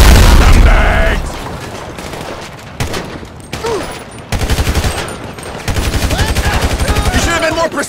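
Gunfire in Grand Theft Auto V, with heavy close bursts and rapid automatic shots that come in loud clusters, pause, then resume as sustained rattling volleys, with shouting voices mixed in.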